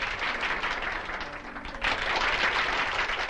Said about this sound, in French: On l'applaudit toujours, on l'applaudit bien fort.